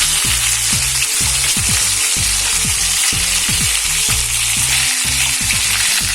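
Brinjal frying in hot oil in a pan, a steady loud sizzle running throughout with repeated low scraping and clacking strokes as the pieces are stirred and turned.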